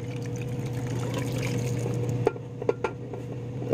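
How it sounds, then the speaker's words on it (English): Leftover soup pours into a heavy pot in a home kitchen, a steady close-up stream with a few sharp clinks of the pot near the end. "I'm pouring in the rest of the soup."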